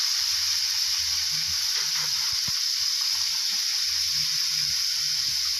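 Liver and garlic chives stir-fry quickly in a hot pan, giving a steady, even sizzling hiss throughout with a few faint clinks of utensils and no talk.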